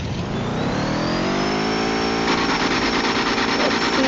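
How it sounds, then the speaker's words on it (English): A mud truck engine revs hard on a dyno, a loud sustained roar climbing steadily in pitch and holding high near the end, close and continuous. "So dyno run, I'm gonna run the dyno here."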